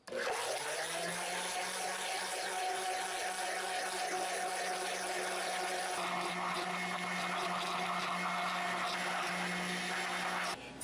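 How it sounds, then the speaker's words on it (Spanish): A blender runs continuously, whirring loud and steady as milk is poured in for a Spanish-style lemon sorbet; the motor tone shifts slightly partway through but keeps running until it cuts off at the end. "Ahora ponemos la leche poco a poco sin apagar la licuadora"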